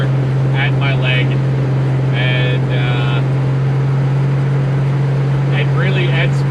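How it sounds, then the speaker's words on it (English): A 1970 Pontiac LeMans with a 455 V8 cruises at about 70 mph. It gives a loud, steady low engine drone with road and wind rush, and a voice is heard briefly over it. "it sounds like we're running somewhere around 2300, maybe 2700 RPMs at 70 miles an hour"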